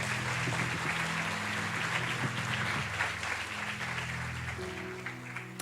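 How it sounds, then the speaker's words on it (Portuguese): A church congregation applauds during a Sunday morning service, steady dense clapping across the whole stretch under sustained organ or keyboard tones, tapering slightly toward the end. "Pode aplaudir"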